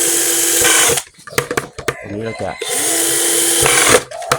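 A power drill bores holes in a bonsai pot in sustained whining bursts that stop and restart, close and loud, with someone talking during the pauses.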